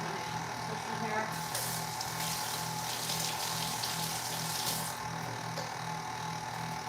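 Water runs steadily from a tap for hair washing, with a pulsing low pump hum beneath and a brighter splash that swells for a few seconds midway before easing back.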